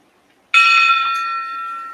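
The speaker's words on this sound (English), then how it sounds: "ring the bell" A single bright bell is struck once, ringing out close and loud, then its clear tone decays slowly over about a second and a half with no other sounds.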